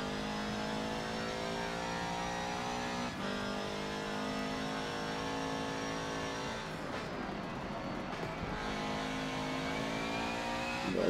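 A race car's engine roars and revs continuously in Forza Motorsport 7 on a wet Brands Hatch circuit, loud and up close, with gear changes and shifting pitch throughout.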